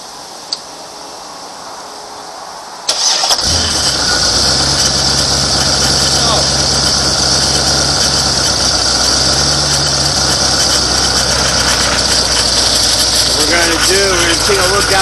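A car engine is started after a cooling system flush and settles into a steady, close idle with light ticking, preceded by a few seconds of near silence; someone talks over the idle.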